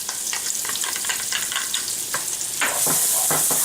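Shallot and garlic sautéing in hot oil, giving a loud, continuous sizzle broken by rhythmic spatula scrapes that grow more hissy near the end.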